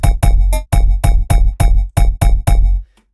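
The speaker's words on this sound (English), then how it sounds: "is done this way because of the distortion effect on aliasing setting. It's actually a bell sound." Distorted bell hit from a BreakTweaker urban drum library with aliasing distortion, loud and buzzy, struck about nine times in a bouncy rhythm, each note cut short, then a faint tail.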